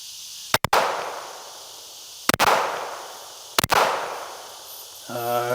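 A carry pistol fitted with a Radian Afterburner compensator fires three loud shots close by, spaced slowly about one and a half seconds apart, each with a sharp double crack and a ringing tail, outdoors.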